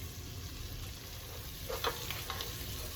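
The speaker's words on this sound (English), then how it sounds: "We're gonna get the ham to get a little bit crispy." Diced ham frying in a pot as the base for a cheddar broccoli soup, a steady low sizzle running throughout with a few brief stirring clinks near the end, no talk.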